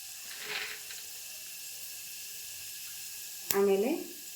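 Chana dal dropped into hot oil for uppittu tempering, with a faint hiss early on and then a sharp, brief burst of sizzling near the end over quiet background.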